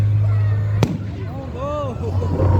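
Outdoor fireworks burst with one sharp loud crack followed by whistling, rising and falling tones under nearby excited chatter.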